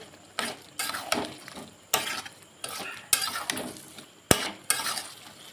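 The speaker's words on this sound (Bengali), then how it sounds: "মটরটা এবার দিয়ে দেব, দিয়ে কষে নেব।" Peas for ghugni, fried and stirred in a spiced pan, come through as a quiet sizzle broken by about eight distinct scraping stir strokes, spaced roughly every second, one sharper clank among them.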